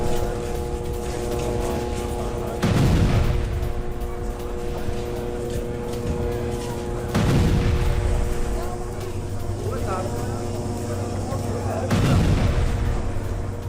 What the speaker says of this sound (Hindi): सेंट्रल गाजा में इजरायली बमबारी